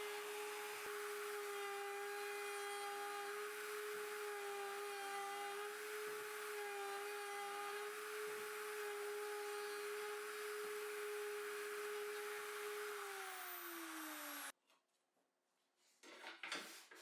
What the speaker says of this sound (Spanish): Después otro a media altura con una fresa de 16 milímetros